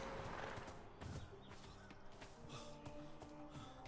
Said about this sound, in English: You got a horse, sir?